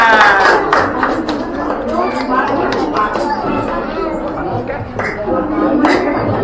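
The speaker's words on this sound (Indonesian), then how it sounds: "Oke, tepuk tangan." Classroom students clap their hands together in a loose, uneven burst, with chatter and voices mixed throughout the room.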